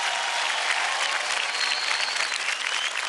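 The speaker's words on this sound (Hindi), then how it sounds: "जोरदार तालियां हो जाए अभीक और स्नेहा जी के लिए" Studio audience at a televised dance competition applauds a pair of dancers, steady dense clapping close and loud throughout with no talk.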